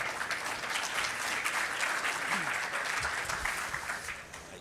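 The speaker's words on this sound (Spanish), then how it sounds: "Recibamos con un fuerte aplauso a Guido Valdivia" Applause from the audience at the EXCON 2024 opening ceremony, fairly faint and evenly sustained, tapering off toward the close.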